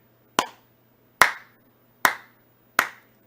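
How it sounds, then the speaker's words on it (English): Four slow, evenly spaced hand claps ring out one by one, each sharp and close with a short decay and silence between. "Slow clap."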